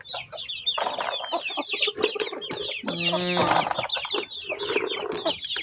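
A laying mother hen clucks close by in a backyard coop with chicks, giving repeated short clucks and one longer drawn-out call in the middle, with no talk over it.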